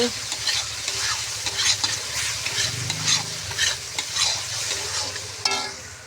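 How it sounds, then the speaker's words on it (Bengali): A spice mix frying in a pan in a home kitchen, a loud close sizzle with repeated rhythmic stirring scrapes of a utensil against the pan. "মশলাটা ভাজে নিচ্ছি"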